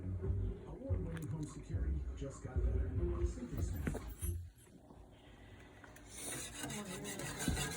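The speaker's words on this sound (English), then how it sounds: "you can't stop whisking or it'll leave little lumps in it" A whisk scrapes and swishes steadily around a pot while gravy is made for a pot roast. The rubbing sound is fairly quiet and continuous, with someone talking over it.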